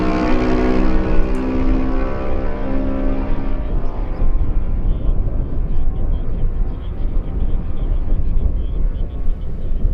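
Racing motorcycles, a Kawasaki and a Suzuki, roar past in close order during a lightweight road race, a loud continuous engine drone that sweeps by and fades with falling pitch.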